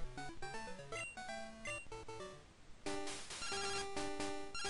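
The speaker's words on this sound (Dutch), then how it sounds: "En de telefoon gaat weer af." A phone rings in the Pokemon Crystal video game as a chiptune ringtone of bright repeated electronic beeps, with a second, denser burst of ringing in the latter half.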